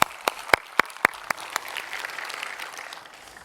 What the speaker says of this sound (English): A clap for Dimitris